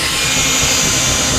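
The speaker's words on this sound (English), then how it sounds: "I shall now commence drilling into my gas field." Drilling into a gas field on the Troll A gas platform: a loud, steady, continuous grinding roar of machinery with no breaks and no speech.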